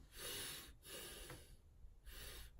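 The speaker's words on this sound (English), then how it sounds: "you don't want to breathe, inhale, and have your chest go up" Slow, deep meditation breaths drawn in and let out, two long airy inhales with the chest rising and a pause between, close and fairly quiet.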